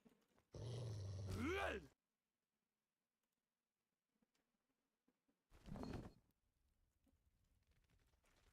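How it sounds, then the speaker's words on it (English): Birds scattering at a desolate fort in the video game Age of Reforging: The Freelands: two loud bursts of squawking, grunting calls with rising cries, separated by several seconds of near silence and faint rustles. "Let's scare the birds."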